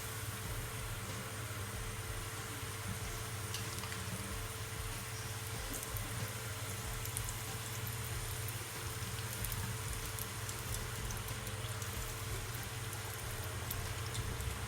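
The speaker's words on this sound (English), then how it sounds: "I'm just gonna allow it to fry for at least 6 to 5 minutes on each side" Chicken wings frying in a pan over medium heat for salt and pepper wings, a steady close hiss and crackle of oil that keeps on evenly throughout, with no talking.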